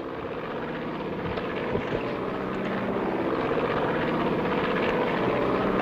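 A seaplane engine drones steadily and loudly, a continuous propeller hum with wind rush throughout and no talk.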